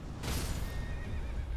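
A horse in the video game Elden Ring lets out a single loud, close whinny that trails off over a low background rumble, with no voices.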